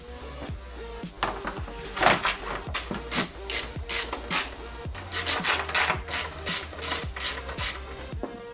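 Close, repeated rasping clicks of a ratchet tightening the two OEM 10mm bolts on the intercooler shroud of a second-generation Mazdaspeed3, worked in quick strokes, with short pauses between bursts.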